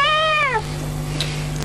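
A single drawn-out cat meow sounds close and clear, followed by a low steady hum and quiet background.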